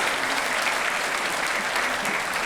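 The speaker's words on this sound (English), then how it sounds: "give our brother a thunderous round of applause again" Loud, dense applause from a large crowd at a men's breakfast meeting fills the whole stretch, steady and continuous with no pauses.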